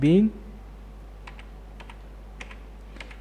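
Light, scattered keystrokes on a computer keyboard while entering data in Tally ERP-9 accounting software, a few isolated taps spread across the moment after a brief voice at the start.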